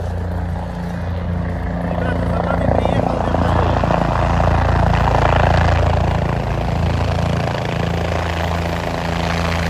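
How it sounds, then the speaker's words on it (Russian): A helicopter passes overhead outdoors near a castle, its steady rotor and engine drone loud and continuous throughout, with children and adults talking and calling excitedly over it. "О, смотрите, вертолет летит."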